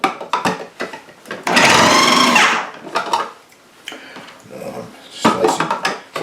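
Small garden potatoes being sliced with a knife, a series of quick crisp cuts and taps on a board, with one longer burst of denser cutting in the middle.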